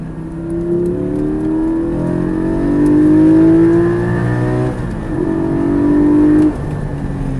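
A Porsche 718 Spyder engine revs hard on a race circuit, heard from inside the car as rising, strained gear pulls climb in pitch, briefly drop at a shift, then climb again, loud and close.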